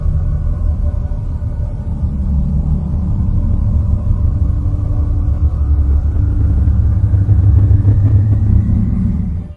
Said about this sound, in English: the electromagnetic frequencies of Uranus would sound something like this